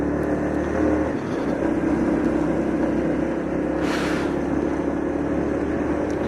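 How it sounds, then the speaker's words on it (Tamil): A heavily loaded lorry labours along a road with a steady, deep engine drone and rumble, loud and continuous, with a short hissing whoosh partway through. "ஹெவி லோடில் போயிட்டுருக்கானா லாரி"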